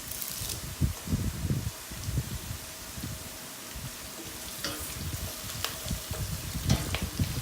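Curry leaves sizzle and crackle in hot oil for a Kerala fish curry, a steady close frying hiss with small irregular pops.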